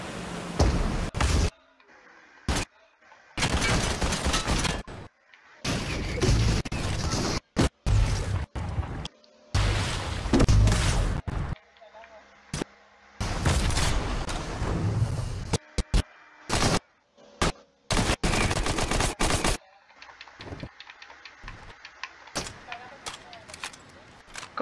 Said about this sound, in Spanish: ¿No escucha las explosiones?